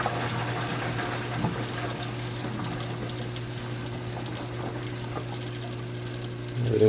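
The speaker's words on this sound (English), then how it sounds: "the water is going to start coming in. You see it flowing." Water flows steadily into an aquarium through a BeanAnimal overflow, a continuous pouring, trickling rush under a low electrical hum, growing slightly louder near the end.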